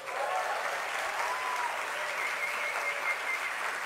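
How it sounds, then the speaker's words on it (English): Steady applause from an audience at an animal society's 150th anniversary celebration, a dense wash of clapping lasting a few seconds, moderately loud and even, with no voices standing out. "Don't applaud like that for Clemson in November, please."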